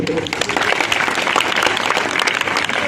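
An audience at a live song performance claps in a steady, dense, loud round of applause from many hands that lasts throughout.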